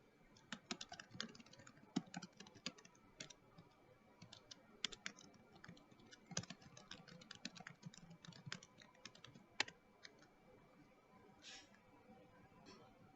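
Rapid, irregular clicking of keys on a computer keyboard, close and fairly quiet, in uneven bursts with brief pauses throughout.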